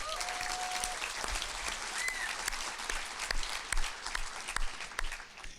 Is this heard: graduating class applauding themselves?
yes